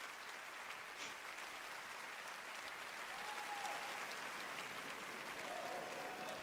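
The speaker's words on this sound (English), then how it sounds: "Polite applause" Polite applause from a live audience at The Game Awards 2024, a steady, soft patter of clapping that holds evenly throughout without voices standing out.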